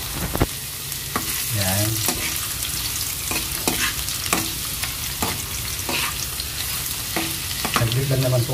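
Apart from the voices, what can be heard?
ginger sautéing in a pan for chicken sinigang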